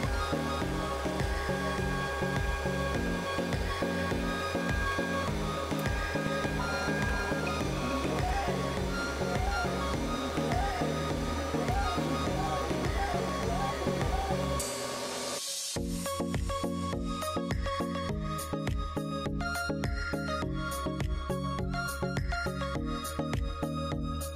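A 3D printer works slowly on test tube centrifuge adapters, its stepper motors whining in steady repeating tones with a brief pause and shift in pattern partway through, continuous and close.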